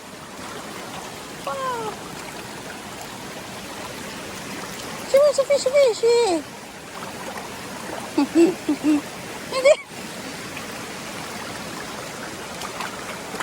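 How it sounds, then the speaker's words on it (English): Small waterfalls pour into a clear stream outdoors with a steady, close wash of flowing water, while people talk and exclaim over it at intervals. "We have two waterfalls."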